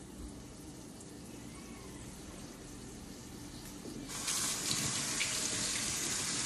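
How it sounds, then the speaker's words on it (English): Tap water runs steadily while beets are peeled under it, then the stream grows louder and splashier about two-thirds of the way through as it hits something in a sink. "Do it under running water helps."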